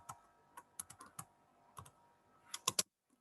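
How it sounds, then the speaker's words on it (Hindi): Keys on a computer keyboard are tapped in scattered, crisp clicks, a few isolated presses and then a quick cluster near the end, close and fairly quiet with no talking. "मैं कीबोर्ड से कंट्रोल प्लस आई करती हूँ"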